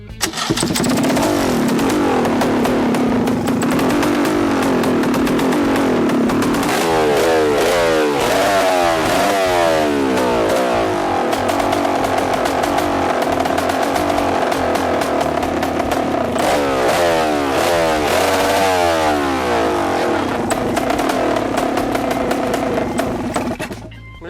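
A small boat engine, newly fitted to a foam boat as a jet drive and not yet tuned, is started and revved, sputtering at first, then running loud and steady with rising and falling throttle bursts and some clatter.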